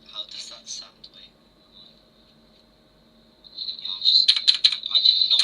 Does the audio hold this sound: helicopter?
no